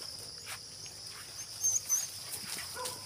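A dog outdoors in a rural Mindanao province gives a few faint, short barks or whimpers, clustered mid-clip, over a soft steady bed of insects and crickets.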